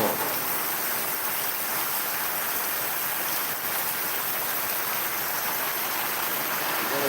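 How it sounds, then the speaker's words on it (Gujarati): Heavy rain pours steadily on a village street beside an old house with a crumbling wall, a dense continuous hiss of water on surfaces with no pauses and no voices. "જો વરસાદ જો"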